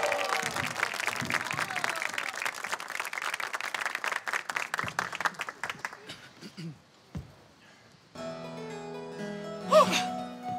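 A theatre audience applauds performers introduced for a Romeo and Juliet scene on a television variety show, dense clapping that gradually thins out and fades, followed by a quiet pause and then music swelling in.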